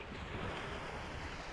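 Caribbean sea surf and wind make a dense, steady wash of noise with low wind rumble over small one-foot waves, continuous and fairly near.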